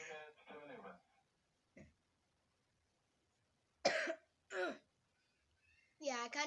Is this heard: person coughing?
yes